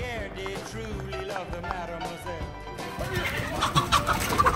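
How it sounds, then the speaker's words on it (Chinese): Rooster and hens at a farmhouse, repeated clucking and squawking calls close by, growing busier and louder toward the end, with scuffling movement underneath. "这是公鸡，那是母鸡啊！"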